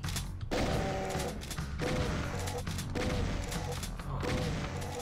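Repeated heavy shotgun blasts from the Doom RL game, four or so booming shots roughly a second apart, each with a sharp crack and ringing tail, loud and dense over game noise.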